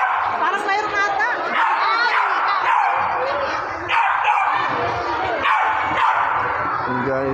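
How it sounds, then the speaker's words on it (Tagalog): Several dogs bark and yip excitedly, close and loud, in a neighborhood after a fire in Pasig City, with whimpers between barks and a person talking over them. "Yun, mga aso ko na guys."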